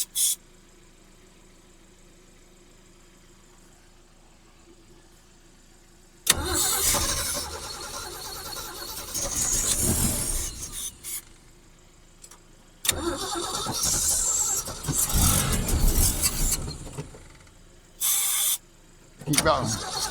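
An old Ford Falcon left sitting for over 30 years, its carburetor tightened up, cranks over in several long bursts separated by pauses, loud and close, with people talking nearby.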